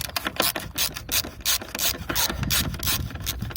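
A screwdriver loosens the reverse light cover screws on a Kia Ceed Estate, making rapid bursts of ratcheting clicks and rubbing, close and loud, with short pauses between turns.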